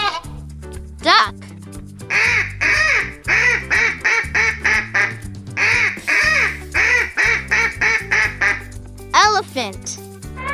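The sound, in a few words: duck quacking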